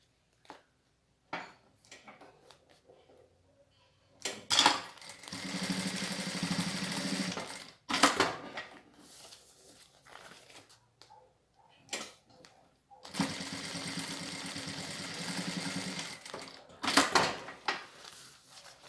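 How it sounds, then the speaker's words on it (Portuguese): Sewing machine stitching a safety seam on a fabric strap for a toilet paper holder, two sustained bursts of steady whirring stitching separated by quieter handling clicks and taps, close and moderately loud. "agora eu vou seguir a marcação do meio e fazer uma costura de segurança na alça"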